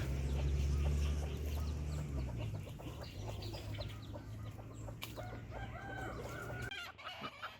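Hens and roosters cluck busily close by as roosters gather around a mother hen with chicks, a dense overlapping chorus of short calls with a steady low hum underneath, cutting off abruptly near the end.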